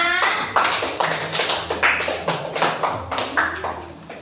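An elementary school class claps in a rhythmic, patterned beat, sharp regular hand claps repeating in time, fairly close and loud, with little talk.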